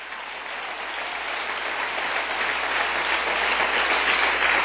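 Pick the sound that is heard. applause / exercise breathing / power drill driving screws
applause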